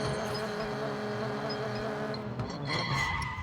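A race car launches in the Need for Speed No Limits mobile racing game, with a loud sustained engine drone and screeching tire skid that shift in pitch near the end, and no voices.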